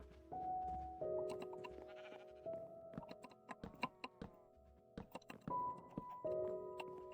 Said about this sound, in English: Hello, black sheep.